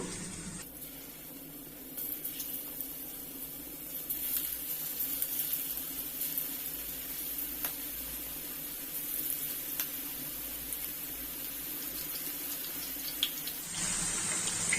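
Chicken pieces frying in hot oil on a stovetop, a steady close hiss and sizzle running throughout with a few faint clicks and crackles, no talking.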